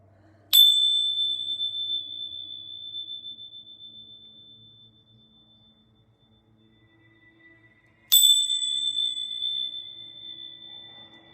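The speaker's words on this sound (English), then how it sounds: "I am going to bring my bells real quickly" Two sharp metallic bell strikes, about eight seconds apart, each ringing out in a long, pure, slowly fading tone in an otherwise quiet room, rung ahead of a reading.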